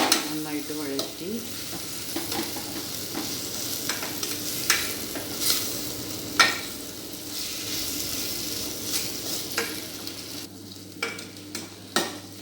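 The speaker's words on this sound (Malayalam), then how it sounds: "മാങ്ങയും നന്നായിട്ട് വഴറ്റി, നന്നായിട്ട് മിക്സ് ചെയ്ത് നന്നായിട്ട് വഴറ്റി" Mango pieces stirred and sautéed in a pan, with a soft continuous sizzle broken by repeated scraping strokes of a spoon against the pan, close and moderately quiet.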